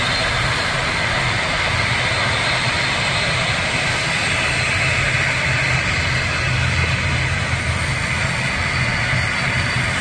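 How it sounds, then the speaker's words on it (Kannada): A passenger plane at Mysore airport, bound for Chennai, produces a broad, steady jet-engine roar heard from a distance, constant in loudness with no voices over it. "ಫ್ಲೈಟ್ ಓಡ್ತಾ ಇದೆ ಚೆನ್ನೈಗೆ"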